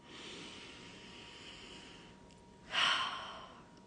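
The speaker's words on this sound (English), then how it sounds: "Deep breath in." A single deep inhale at the close of a grief affirmation session, a soft broadband breath that swells near the end over a quiet, airy background, with no talking.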